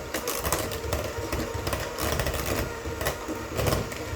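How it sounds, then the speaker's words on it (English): A KitchenAid cordless hand mixer beating room-temperature butter, giving a steady, close motor whir with a busy, rattling texture that swells slightly as it runs, with no talking. "It's a KitchenAid cordless mixer I got off Amazon"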